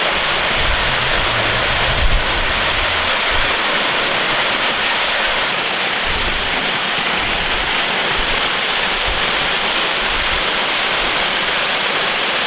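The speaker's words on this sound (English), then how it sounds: "You can hear the stream is super loud." A loud waterfall and rain-swollen stream on an Oahu hike rush in a constant, dense roar of white water, close and unbroken throughout.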